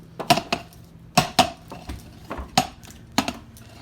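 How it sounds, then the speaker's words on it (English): A bundt cake pan tapped against a counter, several distinct metallic knocks in irregular succession, some doubled, close and fairly loud with brief ringing in between. "I'm going to give this pan a little tap"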